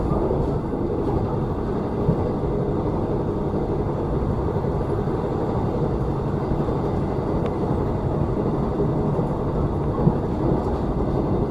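Steady, loud rumbling roar of the Argo Cheribon express train running fast from Jatinegara toward Bekasi, a dense continuous low-heavy noise heard from on board, unbroken for the whole stretch with no voices.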